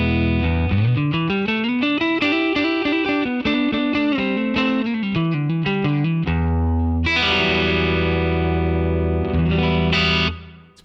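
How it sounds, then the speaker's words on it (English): A Fender Stratocaster's neck pickup plays a clean tone through a Double Verb Silverface amp model with reverb and compression. A run of bright single notes gives way to ringing sustained chords that fade out at the end. "This is what the neck pickup of my Strat sounds like."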